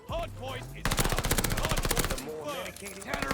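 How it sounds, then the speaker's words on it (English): Rapid PPSh-41 submachine gun bursts from Call of Duty: Vanguard, a loud, dense stream of shots running under a player's voice, with quieter gunfire resuming after a short break. "it's the fastest killing SMG if you were to shoot them in the limbs or anywhere"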